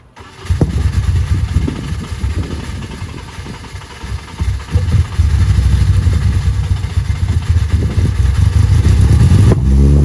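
A Honda K20 engine in an EG hatchback fires up through a SpeedFactory exhaust, catching after a moment and settling into a loud, deep, slightly lumpy idle with a few light blips of throttle, close by.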